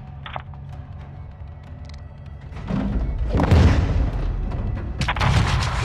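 Heavy explosions from strikes on mortar positions in Call of Duty MW2, a few deep booming blasts rolling in, loud and close, over ambient battlefield rumble.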